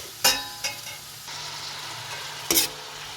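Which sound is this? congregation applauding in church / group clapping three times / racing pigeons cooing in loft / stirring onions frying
stirring onions frying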